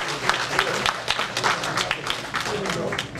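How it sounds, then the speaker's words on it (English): Applause from an audience at a traditional cultural gathering, honoring a speaker; loose uneven clapping with distinct individual claps, moderately loud and close, with some voices mixed in. "Please give him another hand of applause."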